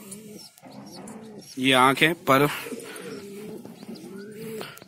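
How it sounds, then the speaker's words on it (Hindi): Shahjahanpuri cross-breed pigeon cooing at close range in a Lahore loft, a few deep rolling coos that rise over a man's steady speech. "ये कबूतर शाहजापुरी क्रॉस में से हुआ है"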